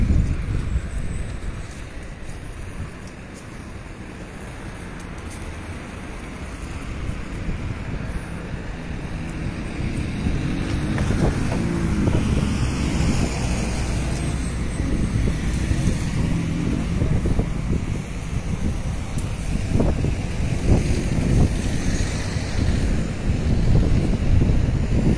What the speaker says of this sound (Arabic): رياح في اللحظات كذلك